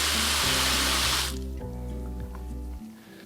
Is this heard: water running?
yes